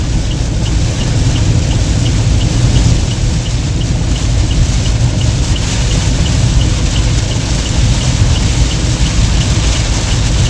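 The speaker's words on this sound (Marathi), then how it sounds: "हा बा बेकार पाऊस आला" Heavy rain on the Mumbai–Pune expressway, a loud, dense, unbroken roar of downpour with a low rumble beneath, steady for the whole stretch.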